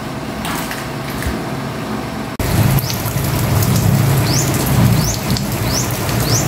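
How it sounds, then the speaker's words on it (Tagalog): Steady rain pattering outdoors, a dense continuous hiss that grows louder after a brief break, with faint chirps in the background. "Maulan pa rin sa amin."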